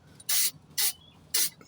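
Three short, loud hissing bursts from a spray can of rust converter sprayed into the frame holes of a Land Rover Discovery, close by, separated by brief pauses.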